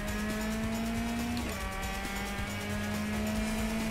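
A race car in a racing video game drones steadily at high revs with a sustained engine whine that shifts pitch briefly midway, loud and continuous throughout, with a possible front-end suspension fault.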